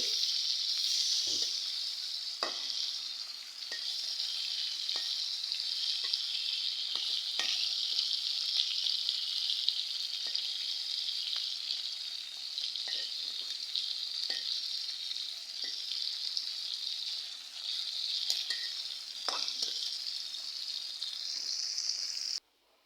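Small hilsa fish (jatka) fry in oil in a steady, close hiss of sizzling, with light clicks and scrapes as the pieces are turned, before the sound cuts off abruptly at the end.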